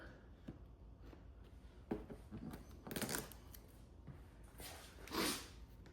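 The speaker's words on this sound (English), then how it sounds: "Right now I'm just cutting out the edges on the inside because that's where the bezel goes" Car wrap vinyl on a Dodge Hellcat Charger being cut along the inside edges around a bezel, faint close scraping and slicing strokes in short irregular bursts, with a few louder rustling swipes.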